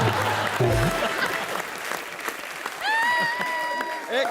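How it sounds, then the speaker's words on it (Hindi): Studio audience applause on a Hindi comedy show stage, a steady wash of clapping filling the clip with a brief musical sting partway through and a voice singing over the end. "जोरदार तालियां हो जाए।"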